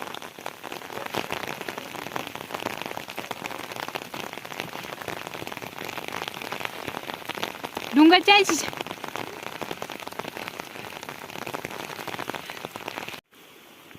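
Heavy rain hammers down in the mountains as a dense, steady roar across the whole stretch, broken near the middle by a brief louder sweep, while someone speaks faintly beneath the downpour.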